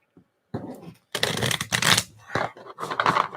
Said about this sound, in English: I'm gonna shuffle a couple times.